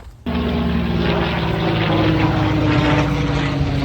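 A steady propeller aircraft drones overhead, starting abruptly and holding loud and continuous throughout, with no voices.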